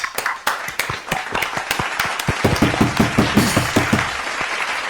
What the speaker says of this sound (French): On applaudit tous,